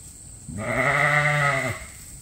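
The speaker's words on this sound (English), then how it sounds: "Just another day of feeding sheep on a working sheep farm." A single sheep on a working sheep farm lets out one clear, close, drawn-out bleat inside a barn, lasting about a second with no talk over it.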